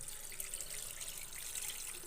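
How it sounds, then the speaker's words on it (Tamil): Water rinsed from a grinding stone is poured into a country chicken curry, a steady, soft splashing pour heard up close and fairly faint, without any voices. "இப்போது அம்மியில் கழுவுன தண்ணி அதை ஊற்றிக்கலாம்."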